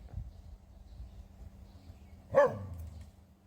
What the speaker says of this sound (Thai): ด้า มาเห่าทางนี้